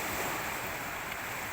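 Waves wash onto a Mediterranean Sea beach in Mersin, Turkey, a dense, continuous roar of surf mixed with wind buffeting the microphone, with no voices.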